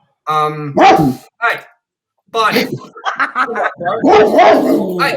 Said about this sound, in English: Sorry about my fucking dog.